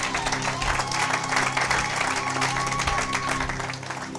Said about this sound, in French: Acclamez pour la gloire éternelle à notre Dieu.